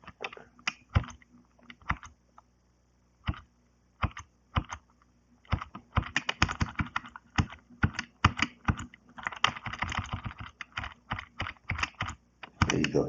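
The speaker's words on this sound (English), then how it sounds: "we can check the users by typing the tail command" Fingers tap on a computer keyboard to enter a Linux tail command, with irregular clicky keystrokes, sparse at first and then denser quick runs, close and clear with no voice.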